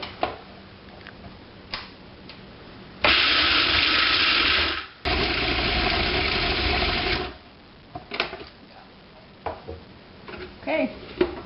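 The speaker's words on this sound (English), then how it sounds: "they're just all going to go in the food processor, and you're going to blend them until it's a nice kind of fine" A food processor blends almonds, dates and coconut into a sticky raw pie crust, running loud for two bursts of about two seconds each with a brief pause between, with quieter kitchen handling noises before and after.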